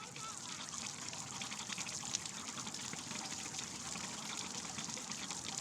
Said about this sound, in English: It flows up through 90 feet of earth and out of a metal spigot in the center of downtown.